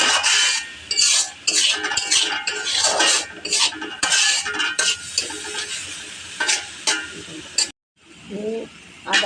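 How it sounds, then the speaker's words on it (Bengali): Spices with chilli powder are stirred and fried in a pan, a spoon scraping and clinking in bursts over a hissing sizzle, close and loud, with a brief pause near the end. "মশলাটা ভালোভাবে কষিয়ে নেব।"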